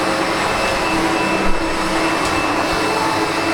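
A SEBO Automatic X7 Boost ePower upright vacuum cleaner runs steadily at close range with a constant motor whine and broadband suction roar, alone with no talk, plus a small bump midway.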